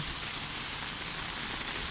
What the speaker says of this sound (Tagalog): At uh, mahangin, malakas ang ulan.